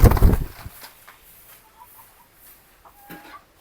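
Chickens in a backyard coop fenced with wide-mesh netting give a brief loud flurry at the start, then a few faint, scattered clucks and soft calls.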